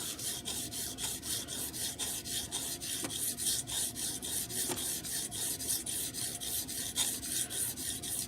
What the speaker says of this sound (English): This is flat to the stone. I'm gonna just go up a little because this edge is pretty much dead, and I'm gonna just start sharpening.